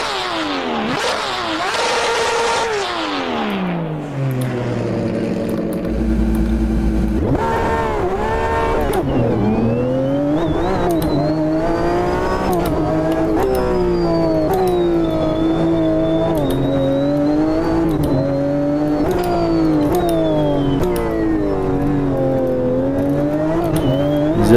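Onboard engine of a Porsche GTE race car in the Automobilista 2 sim racing game, revving high through the gears with steady climbs and sharp drops at each shift, loud and continuous throughout.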